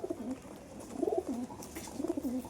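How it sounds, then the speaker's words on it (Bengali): Local Kalpetia pigeons coo softly nearby in three rolling, throaty phrases, each a wavering burble, with light background noise. "এটা কালপেটিয়া আমাদের এমনি লোকাল পায়রা আছে।"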